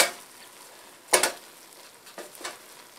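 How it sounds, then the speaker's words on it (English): A spoon stirs vegetable pulao in a pot, with a soft background sizzle and a few sharp scraping strokes of metal against the pan around the middle and near the end. "I'm just going to give this a stir."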